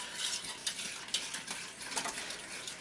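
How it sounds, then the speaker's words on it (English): Quiet clinking and scraping of a utensil stirred around a pot on the stove as it heats toward a boil, in soft repeated strokes over a faint background hiss. "So I'm just stirring this until it starts to boil"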